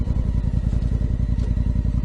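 A 2018 Honda Africa Twin motorcycle rides along with a steady, loud, low engine throb and rapid regular pulsing, heard up close with wind noise and no one talking.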